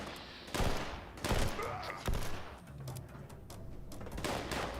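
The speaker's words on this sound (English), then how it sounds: "They're just shooting after me." Enemy gunfire in the video game Fallout 76, several sharp separated shot bursts at moderate distance, with a quieter stretch between the later shots.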